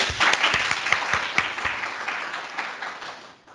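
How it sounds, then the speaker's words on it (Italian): An audience at a legality festival in Italy applauds, a dense burst of clapping that starts strong and slowly fades over a few seconds. "oggi va a loro il nostro applauso e il nostro applauso."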